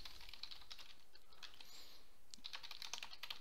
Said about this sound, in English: type in my email address here